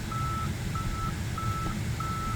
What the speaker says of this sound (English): it's beeping because that thing is behind my car